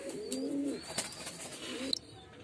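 Pigeons cooing in a cage: soft low rolling coos, a few calls close by, with faint higher chirps and a quiet background.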